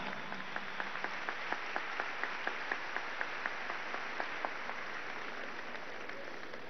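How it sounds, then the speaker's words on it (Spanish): Audience applause at a graduation ceremony for community doctors, held at the Poliedro de Caracas. A broad wash of clapping carries steady, evenly spaced sharper claps through it, moderately loud and continuous, with no talking. "Un aplauso a esta médica"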